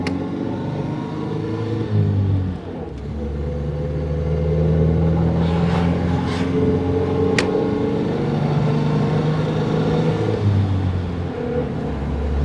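A vintage Lanchester LD10's engine drones steadily from inside the cabin, its pitch rising and settling through preselector gearbox changes, with a faint click partway through.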